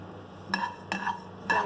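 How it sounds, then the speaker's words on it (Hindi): Fennel seeds dry roasting in a pan give a quiet sizzling hiss, with three distinct scraping strokes from a stirring spoon. "इन सारे मसालों को हम पहले फ्राई करेंगे, मतलब ड्राई रोस्ट करेंगे, भूनेंगे"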